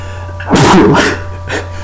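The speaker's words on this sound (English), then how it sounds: "I'm going to sneeze." A single loud, sharp sneeze bursts out close by, followed by a brief fainter exhale, with a steady low hum in the background.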